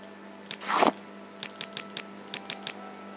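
A burst of rustling is followed by a run of about eight crisp, evenly spaced keystrokes on a computer keyboard, entering a name in the game Morrowind, close and clear with no talk.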